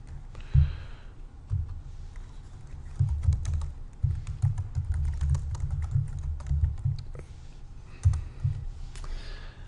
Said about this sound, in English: I am going to just type some simple text in here.